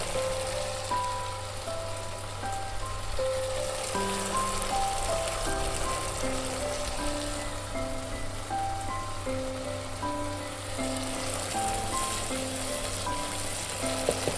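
Spice masala sautéing in a pan for Bengali chicken kosha, a continuous bright sizzle and crackle with a steady tone and faint background melody running under it throughout.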